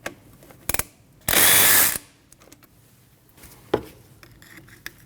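A ratchet wrench loosens the 12mm bolt holding the brake hose to the back of a front brake caliper on a 2003-2008 Subaru Forester. A few sharp clicks are followed by a loud, close burst of rapid ratcheting lasting under a second, then scattered taps.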